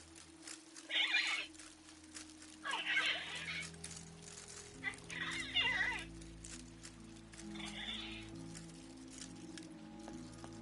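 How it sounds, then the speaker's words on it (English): Mechanical automaton birds in an aviary chirp and twitter in short bright bursts, repeating every couple of seconds over a soft sustained musical hum in a Syberia 3 game scene. "The birds in the aviary are beautiful."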